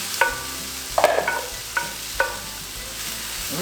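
Diced Spam sizzles softly in a pan while a utensil stirs and scrapes it, giving a few sharp clicks and taps over a low, steady frying hiss.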